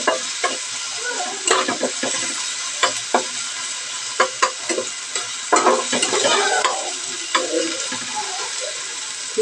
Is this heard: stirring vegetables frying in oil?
yes